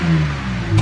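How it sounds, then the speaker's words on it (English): A BMW 128i engine fitted with an AFE intake revs up sharply nearby in a short, loud burst with no talking. "All right, Jonathan, can you give us a few revs real quick, if you can do the honors?"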